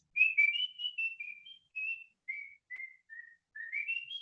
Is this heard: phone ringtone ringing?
no